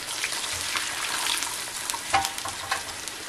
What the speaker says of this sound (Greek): τα αφήνουμε να τηγανιστούμε, θέλουμε γύρω στα 5 με 7 λεπτά